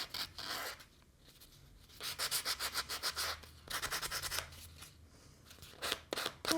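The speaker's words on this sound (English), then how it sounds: "I'm going to start by taking our relief block and we're going to sand over the top surface" A relief block rubs and sands over the top surface of a small brass earring piece, steady rasping back-and-forth strokes in quick rhythmic bursts, close and fairly quiet.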